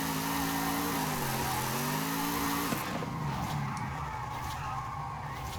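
A donut drift car slides on snow tires in Forza, with a steady engine drone and a continuous skidding hiss. The tone wavers, then shifts partway through as the slide changes.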